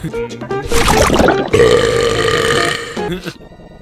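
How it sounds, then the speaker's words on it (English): A cartoon burp from Squidward in a SpongeBob clip, a long, loud, drawn-out belch sounding close and alone, preceded by a short burst of clattering cartoon effects. "Ethan added in the clip of Squidward burping after being fed 900 Krabby Patties by SpongeBob tripping over his shoelaces."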